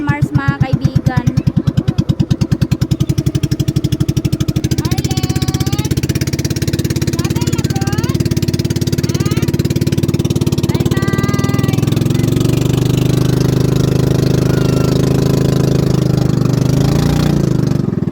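A small boat engine idles on the Agusan River, loud and close, with a rapid throbbing that smooths into a steady drone while people talk intermittently over it.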